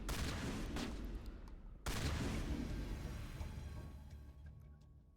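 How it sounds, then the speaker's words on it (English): A video game shootout erupts in a roaring barrage of overlapping gunshots, with a sharp renewed volley midway that gradually thins and fades toward the end. "Open fire! Oh, wow, they're going down shooting."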